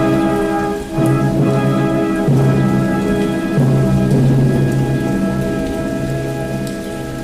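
Heavy thunderstorm rain drums steadily on surfaces, with deep rolls of thunder rumbling low beneath the downpour, loud and continuous.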